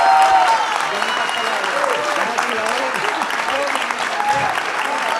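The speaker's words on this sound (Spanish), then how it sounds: "Más fuerte el aplauso para el gran Nicolás Márquez" Loud, enthusiastic applause at a book presentation, a dense crowd clapping steadily throughout, with voices and cheers faintly mixed in.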